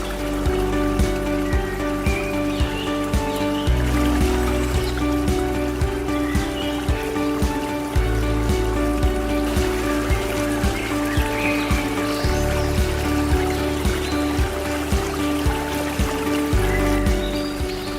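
A river running through the Loknga forest at Pucuk Krung, a continuous trickling, splashing flow with scattered droplet-like patters, sitting under steady background music throughout.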